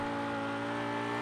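A car engine in a driving video game hums steadily at a constant pitch while the car drives on the wrong side of a highway, with no other sounds around it.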